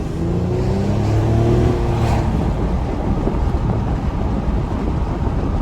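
A 2013 Honda Accord Coupe V6 with a manual gearbox revs hard, a steady loud engine roar with rising harmonic sweeps as VTEC engages, heard from inside the car under wind and road rumble.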